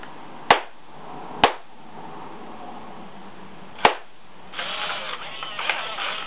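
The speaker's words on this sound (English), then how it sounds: "Just clap 4 times or whatever you want to do." Three sharp hand claps, widely spaced and fairly close, followed by a stretch of rustling and handling noise.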